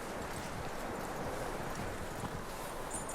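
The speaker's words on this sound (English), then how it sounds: "That looks like a decent horse." Horse hooves clip-clop steadily on the ground in the video game Red Dead Redemption 2. The rhythmic footfalls sit close over a continuous, dense background wash.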